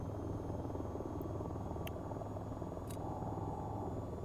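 A steady, low helicopter rotor drone with a constant engine hum in VTOL VR, continuous and fairly close, with a few faint clicks and a higher tone partway through.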